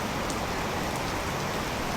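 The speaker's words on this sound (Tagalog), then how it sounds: "Lakas ng ulan." Heavy rain pours steadily during a typhoon in the Philippines, a dense, continuous hiss that stays loud and unbroken throughout, with no voices.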